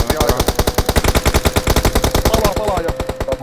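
Automatic gunfire in a battle royale video game rattles out in fast, loud, continuous bursts for several seconds, each shot sharp and closely spaced.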